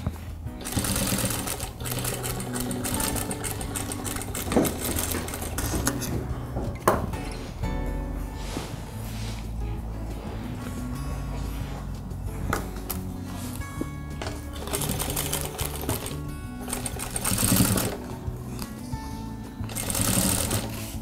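A sewing machine stitches fabric pieces together for an embroidered kerchief, running in repeated bursts of rapid mechanical clatter with short pauses between runs, close and clear with no talking.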